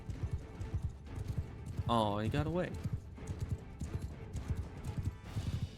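Horse hooves clip-clopping in the Mount and Blade II: Bannerlord game during a cavalry battle, a horse whinnying midway, with someone talking over the sounds.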